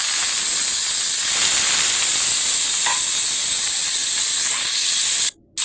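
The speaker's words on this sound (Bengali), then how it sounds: "তো মাছগুলো হালকা করে ভেজে আমি তুলে নেব।" Hilsa fish pieces frying lightly in oil, a loud continuous sizzle and hiss close by that cuts off abruptly for a moment near the end, with no talking.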